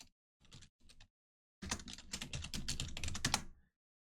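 Close, crisp typing on a computer keyboard: a few isolated keystrokes, a pause, then a quick continuous run of clicks for about two seconds before silence.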